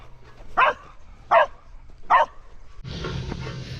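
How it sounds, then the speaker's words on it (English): A dog barks at a woodchuck outdoors: three sharp, evenly spaced barks close by, followed by a stretch of steady rustling background noise. "sure enough, Yanko's out here barking"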